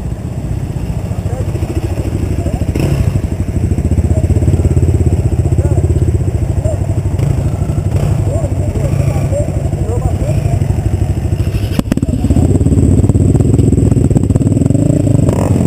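A motorcycle engine drones steadily and loudly throughout, with rumbling low tones, some clatter, and voices talking underneath.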